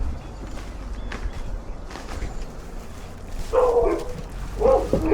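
Dogs give a couple of short barks and yips near the end, close and moderately loud, over low background rumble during a grocery delivery drop-off.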